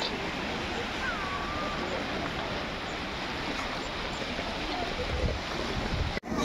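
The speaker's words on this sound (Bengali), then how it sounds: "ইস সাগরটা এখন কিন্তু সাগরের ঢেউগুলো খুব ভালো লাগতেছে" Sea waves washing on the shore at night, a broad continuous roar with wind buffeting, children and people faintly audible in the background.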